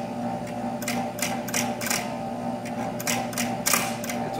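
A Monarch 10EE lathe runs erratically at low RPM, its steady mechanical whir broken by irregular bursts of clicking and rattling that come and go.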